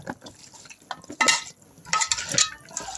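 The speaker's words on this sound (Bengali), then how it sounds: "আমি হাতে মেখে দিচ্ছি।" Chicken and radish are mixed by hand with oil and spices, giving soft wet squelching and slapping sounds in irregular bursts, close and fairly quiet, with small clinks of a bowl in between.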